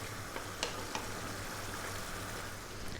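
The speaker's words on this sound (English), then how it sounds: "We're now going to put this on a nice low simmer and let it go for 15 minutes" Lamb curry with coconut milk bubbles quietly in a pan on low heat, giving a soft, steady simmering hiss with faint occasional pops and no talk.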